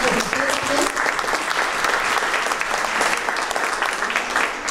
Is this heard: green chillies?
no